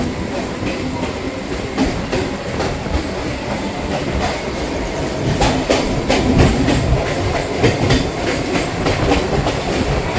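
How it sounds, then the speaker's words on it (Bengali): A Gede–Sealdah local train runs at speed, its loud steady rumble filled with rhythmic wheel clatter over rail joints, heard close from inside the carriage. "4:41 গেদে শিয়ালদা লোকাল ধরে আমরা যাব হচ্ছে ব্যারাকপুরে।"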